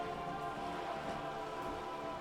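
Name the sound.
rain falling in video game Disco Elysium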